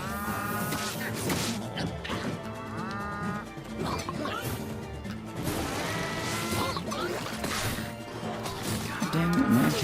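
Repeated cow moos from the Town of Zoz video game, loud and close over a busy, continuous game soundtrack, several calls spread across the clip.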